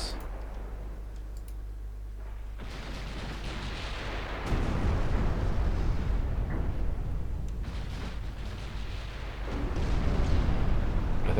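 Torpedo explosions hit a ship during a naval battle in Ultimate Admiral Dreadnoughts, heavy rumbling booms swelling in several waves over a continuous low roar of battle noise.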